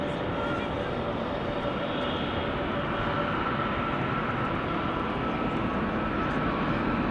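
KLM passenger aircraft at Amsterdam Schiphol Airport, a continuous broad engine roar heard from a distance, steady and even throughout with no pause.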